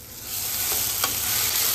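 Ground spice paste for a fasting-style varai amti fries in hot oil while being stirred. A close, steady sizzle grows louder after a quiet start, with a couple of soft spoon clicks.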